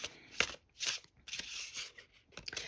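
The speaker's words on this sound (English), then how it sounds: "They're easy to shuffle." A deck of matte oracle cards is shuffled up close in quick, crisp riffling bursts, each rush of card edges separated by short pauses.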